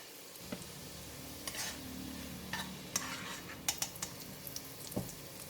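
Garlic fries in oil in a pan, giving a soft, steady sizzle under scraping and clinking stirring strokes, with no voices.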